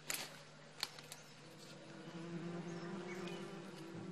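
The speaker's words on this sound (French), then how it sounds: "Puis fait sortir les abeilles en enfumant l'intérieur du tronc." Steady buzzing drone of bees smoked out of a hollow tree trunk in a Cameroonian forest, rising slightly and humming continuously close by after a few faint knocks at the start.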